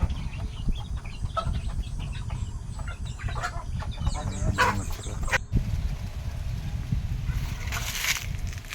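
Chickens and chicks on a rural farm cluck and cheep close by, with repeated calls over a steady low hum of background noise.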